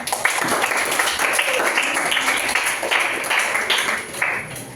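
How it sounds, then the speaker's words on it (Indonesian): Classroom audience applause at the end of a lesson, a dense, steady patter of many hands clapping close by for several seconds, briefly swelling and then easing toward the end. "Kasih tepuk tangan dulu."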